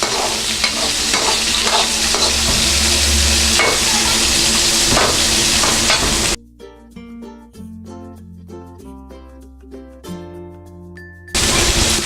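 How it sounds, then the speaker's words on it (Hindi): Onions fry in a pan for besan kadhi, a loud close sizzle with repeated stirring scrapes, broken midway by a stretch of quieter music before the frying noise returns abruptly. "प्याज डाल रही हूँ। अभी ब्राउन कलर हो जाए, लाल हो जाए"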